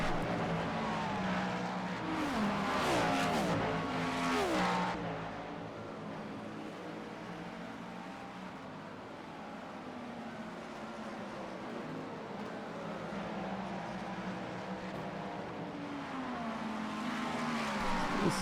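Race car engines roar through a sprint car racing video game event, several cars running close together with loud, rising and falling revs and a brief louder burst of passing engines early on.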